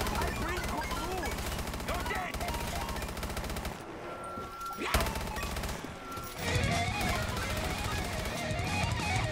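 Gunfire from a video game gun, rapid bursts of shots layered over a loud, busy mix of music and effects, with a brief lull in the middle before the din resumes.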